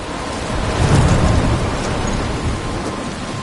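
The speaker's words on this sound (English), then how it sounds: "I'm trapped in a storm?" A rainstorm with rolling thunder in the video game Life is Strange Remastered; a steady wash of heavy rain with a deep thunder rumble swelling near the start and fading into continuous downpour, no talking.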